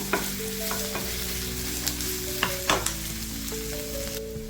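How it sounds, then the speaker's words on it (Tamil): Chopped onions sizzle steadily in a hot pan for tomato chutney, with a few sharp stirring scrapes and clicks near the front over soft background music. "இது வந்துட்டு நல்லா ஃப்ரை ஆகட்டும்"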